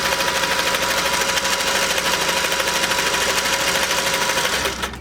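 A Singer sewing machine stitches a decorative edge in a continuous fast, even mechanical whir and clatter, close and loud, running steadily until it slows and stops at the end.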